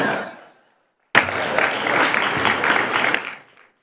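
An audience at the Azusa State of the City Address breaks into applause, loud and steady for about two seconds before fading out.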